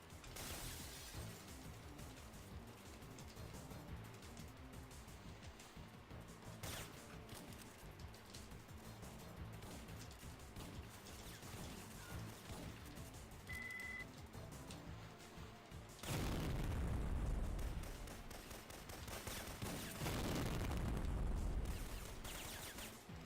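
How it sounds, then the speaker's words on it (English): Tankers blowing up in the video game Syphon Filter: a dense, continuous rumble of crashing and shattering, swelling into two heavy, booming blasts near the end. "I think you're supposed to blow up those tankers so that way they don't blow them up on the way out."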